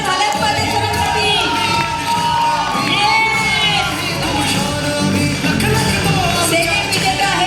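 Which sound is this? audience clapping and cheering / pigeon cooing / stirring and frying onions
audience clapping and cheering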